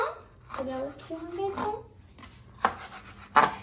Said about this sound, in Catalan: ara tallaré la ceba